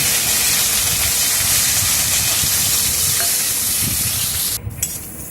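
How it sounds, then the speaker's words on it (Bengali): Cashews and raisins frying in white oil, a dense, loud, continuous sizzle with a bubbling hiss that fills the clip and then drops away sharply near the end. "এবার আমি কাজু আর কিশমিশটাও এই তেলে ভেজে নেব"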